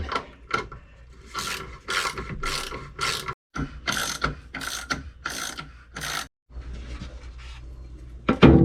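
Ratchet wrench cranking a lag bolt down into wood during a wooden boat battery-box build, rapid clicking bursts in repeated strokes with brief pauses, close and fairly loud.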